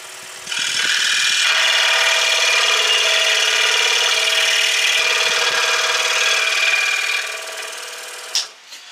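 A saw with an aggressive blade drives through thick hardwood in one sustained, loud, gritty cut lasting about seven seconds, then winds down, followed by a brief knock near the end.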